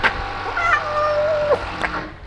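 A young stray kitten gives one drawn-out, wavering meow, close and clear, followed by a fainter short cry near the end.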